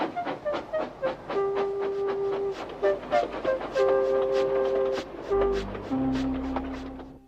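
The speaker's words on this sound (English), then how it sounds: "Thomas puffed sadly away." Steam locomotive puffing along a railway, rhythmic chuffing bursts with sustained whistle-like tones, fairly close and steady, the beat easing toward the end.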